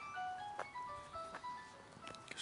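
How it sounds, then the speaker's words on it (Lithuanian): A mobile phone's melodic ringtone plays faintly outdoors at an exhibition of old working machinery in Lithuania, a short tune of stepped tones repeating steadily over low background hum with no one talking. "Kažkas skambina."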